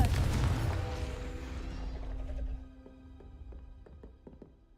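A blasting spell is cast in a Harry Potter video game, a booming explosive burst that decays into a ringing tail with scattered light clinks of debris.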